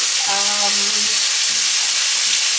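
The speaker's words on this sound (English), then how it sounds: "we are gonna start to cook up this seasoned rice" Seasoned rice for a dish with ackee, saltfish and salt beef cooks in a pot with a loud, steady sizzle filling the whole stretch, plus a few brief tonal clinks early on.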